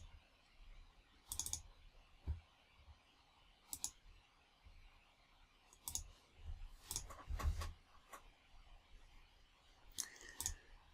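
Scattered mouse clicks while working in 3Shape dental design software, faint single and paired clicks at irregular intervals over a quiet room background.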